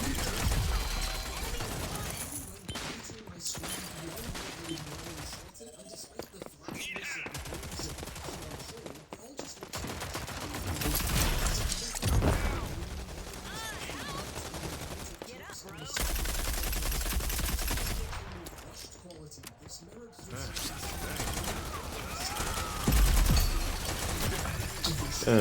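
Rapid, dense gunfire from Gears 5 sustained through long stretches with brief gaps, loud and close, while players talk over it.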